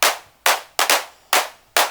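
A Roland TR-8 drum machine hand clap fires six crisp, snappy hits in about two seconds, loud and dry with short decays and an uneven rhythm, nothing else playing.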